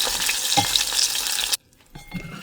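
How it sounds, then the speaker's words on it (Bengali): Hilsa fish fries in hot oil with a dense, crackling sizzle that runs steadily for about a second and a half, then drops away abruptly, leaving faint stirring sounds afterward. "এত সুন্দর মাছ ভাজা হয়েছে"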